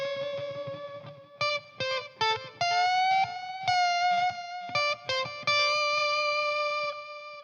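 Electric guitar lick played slower with lighter overdrive, separate sustained notes and slides ringing clearly with short gaps between phrases, played solo and close.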